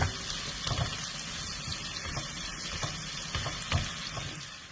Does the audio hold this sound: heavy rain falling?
no